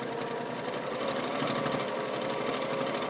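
A sewing machine runs steadily for the whole stretch, stitching binding onto the edge of a mini open tote bag with a 1/4 inch seam, its fast even hum close and loud with no talk over it.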